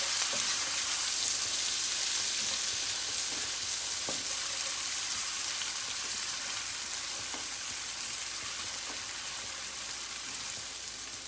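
Two small chopped onions fry in a pan for dal, giving a continuous, even hiss of sizzling with a few faint clicks of stirring, steady throughout and without talk.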